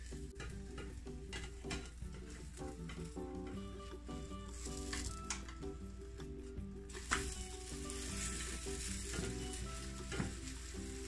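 Egg toast frying in butter in a single pan gives a soft, steady sizzle close by, broken by light clicks and scrapes from a spatula, with no voices.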